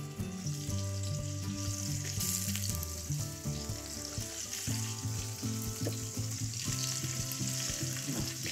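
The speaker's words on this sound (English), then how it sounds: "Oil in the pan. Let's just brown the short rib." Short ribs browning in hot oil in a pan, a steady loud sizzle over a constant low hum, with occasional shifts as the meat settles, no voices.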